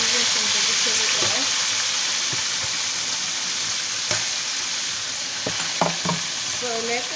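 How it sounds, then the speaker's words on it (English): Chicken frying in vegetable oil for Sierra Leone pepper chicken, a steady close sizzle and crackle throughout with occasional pops and utensil clinks, and faint talk in the background. "So let that to fry,"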